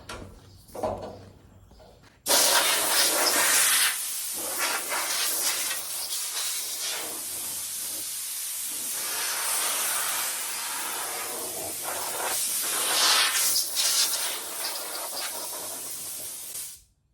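A brief scrape, then a long continuous hissing spray from a spray bottle on a 1972 Volkswagen Super Beetle, running for many seconds, close and loud, easing off at the end.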